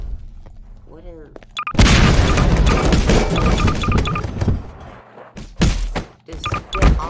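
A grenade goes off in Garry's Mod with a loud booming thump after a short moment of voices, followed by further thuds and game noise, with people talking over parts of it.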